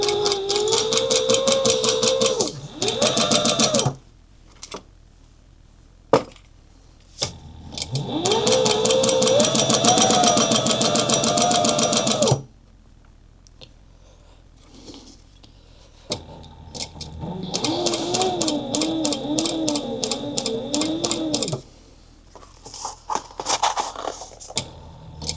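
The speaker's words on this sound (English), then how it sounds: "And we're going to backstitch." A home sewing machine runs in bursts while stitching and backstitching a fabric clutch wallet, loud close whirring runs with rhythmic needle clatter, separated by pauses with small clicks and handling noises.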